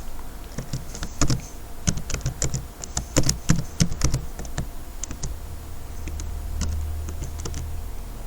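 A password tapped out on a computer keyboard, with close, crisp key clicks coming in quick irregular bursts and short pauses, then a faint low hum and no speech.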